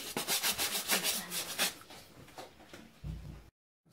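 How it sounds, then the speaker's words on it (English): A brush scrubs trainers being cleaned with baking soda in quick, close, rhythmic rubbing strokes, each stroke a gritty swish, slowing toward the end before stopping. "we're done all our scrubbing and brushing"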